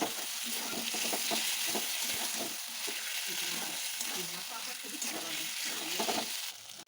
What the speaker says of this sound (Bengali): আলুগুলো দিয়ে বেশ কিছুক্ষণ এবার এটাকে আমি কষে নেব।